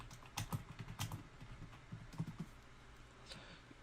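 Quiet keystrokes on a computer keyboard tap out a short burst in uneven clusters of clicks, then taper into a few sparse, fainter taps near the end.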